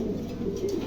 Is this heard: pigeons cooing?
yes